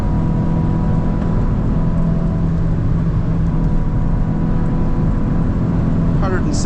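A Hyundai i20 N or i30 N hot hatch accelerating on the Nurburgring track makes a loud, constant in-cabin engine drone and road roar, with a voice talking over it.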